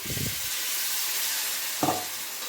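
Mushroom masala frying in a pan after a splash of water is added, a steady hissing sizzle with two brief low stirring scrapes, one at the start and one near the end.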